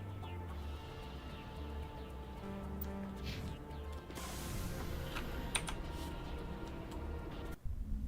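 Faint, quiet clicks of computer keyboard keys being pressed during a Mass Effect Legendary Edition session, a few sparse taps over a low steady background hum.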